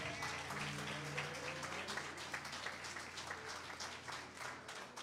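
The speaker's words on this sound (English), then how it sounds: "a hand clap of praise?" A Baptist church congregation gives a sustained round of clapping in praise, many hands clapping densely with a faint tonal note like organ or voices underneath at moderate volume.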